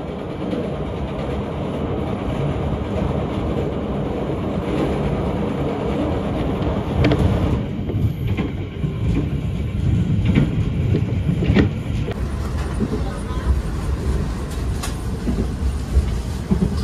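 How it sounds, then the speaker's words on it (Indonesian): The Argo Semeru train rumbles across the Serayu River bridge with a loud, steady roar of wheels and carriages heard from onboard. Rhythmic clicks and clanks punctuate the second half as the train rolls over the span. "Kita melintas jembatan Sungai Serayu."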